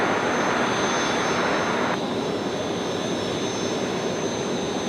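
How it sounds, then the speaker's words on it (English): A passenger jet on a Melbourne service lands on runway 19 left at Brisbane Airport at night, a loud, steady engine roar and broadband rush that fills the whole span and eases slightly partway through. "353 is just being cleared to land. Coming in 19 left, service from Melbourne."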